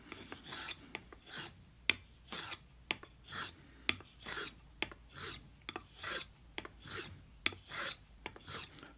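A straight razor, a Portland Razor Company Siren quarter-hollow, is stroked back and forth across a coticule stone in a steady rhythm of raspy, scraping passes, with short sharp ticks as the blade turns. It is close and quiet, with no voices.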